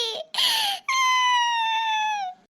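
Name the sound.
cartoon child crying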